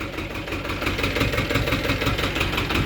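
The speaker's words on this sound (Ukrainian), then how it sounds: "Їде трактор, хлопці." Tractor engine with a rotary tiller attachment running close by, a steady chugging mid-range drone with a knocking pulse, loud and continuous, with no talk.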